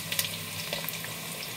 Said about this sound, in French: L'huile a chauffé. On va mettre l'oignon.